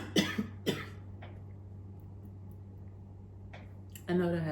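A person coughs twice in quick succession, close and sharp, followed by a softer throat noise and a quiet pause; a voice begins talking near the end.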